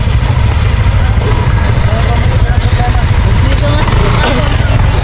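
Motorcycles labor uphill toward the Pacific View Deck in Dingalan, a steady low engine drone running loud and close throughout, with faint voices mixed in.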